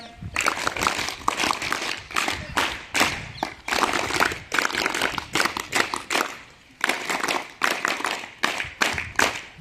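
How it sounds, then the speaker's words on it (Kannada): Group of children clapping their hands in bursts, sharp claps close by stopping and starting in several rounds with short pauses between. "ಹಾ, ಚಪ್ಪಾಳೆ."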